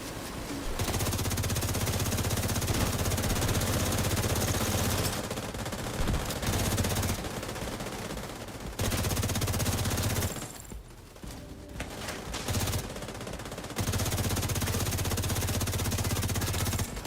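A big mounted gun firing in the video game The Division 2, loud sustained automatic bursts hammering close up, broken by a few short pauses between long strings of rapid shots.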